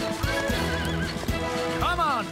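Cartoon horses neigh and whinny loudly, with a long rising-and-falling whinny near the end, over steady clip-clop hoofbeats and a busy background.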